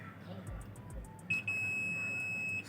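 A multimeter continuity buzzer sounds a steady high-pitched electronic buzz that starts abruptly and holds for over a second, preceded by faint ticking, with a low hum underneath, testing a badly shorted diode in a Sennheiser ASA1 active antenna splitter.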